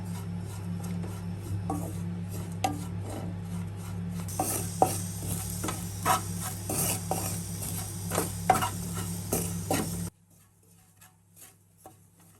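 Grated coconut roasting in a pan for Kerala kootu curry, a spoon scraping and stirring in repeated strokes over a soft sizzle, close and steady before stopping near the end.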